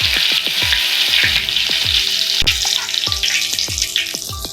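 Chicken 65 deep-frying in hot oil, a loud dense continuous sizzle and crackle with many quick popping bursts, close up and with no talking.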